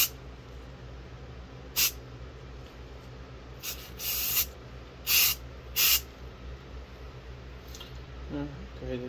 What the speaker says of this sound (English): We're gonna get this primed up.